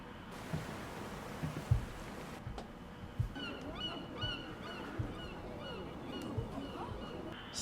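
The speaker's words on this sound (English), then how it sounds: "Seagulls." Seagulls cry out in short, scattered calls, mostly faint and somewhat distant, repeating every second or so over a soft outdoor background with no talking.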